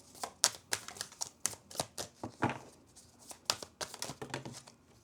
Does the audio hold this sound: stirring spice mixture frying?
no